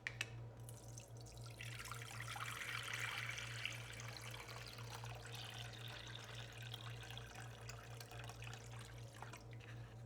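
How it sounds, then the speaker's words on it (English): Water runs from a tap into a small pot on a stove, a steady, close splashing rush that shifts in tone as the pot fills, with no voices. "To that, we're going to be adding water."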